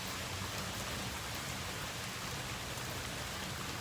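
Steady rain falling on a surface, a continuous dense hiss with fine drop patter that stays close and even throughout, with no voices over it.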